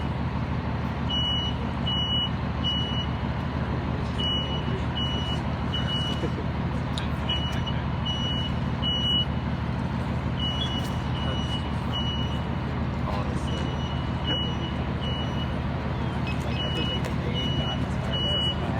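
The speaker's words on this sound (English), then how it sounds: "The fire trucks are coming." Fire trucks arriving and maneuvering, with a steady heavy engine rumble and a repeated high reversing beep sounding in regular pulses throughout, while voices talk faintly in the background.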